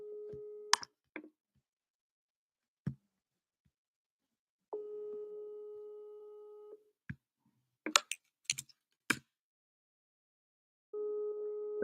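A telephone call tone repeats in steady beeps with gaps between them during a callback, interrupted by short clicks and handling noises.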